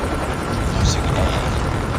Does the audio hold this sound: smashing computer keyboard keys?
no